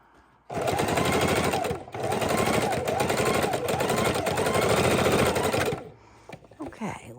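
A sewing machine stitches scrap fabric strips in two long, fast, loud runs of rapid needle clatter separated by a brief pause, then stops, with soft handling noise afterward.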